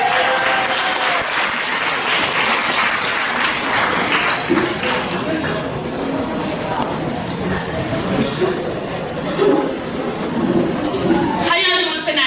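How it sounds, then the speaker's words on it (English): Loud, dense applause fills the room from the audience at a curvy fashion show, sustained throughout with scattered cheers and voices mixed in, swelling again toward the end. "let's give them a round of applause."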